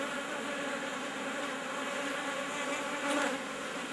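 Honeybees buzzing around a wooden hive box, a dense steady drone of many insects that stays at an even level throughout, swelling briefly as one flies close near the end.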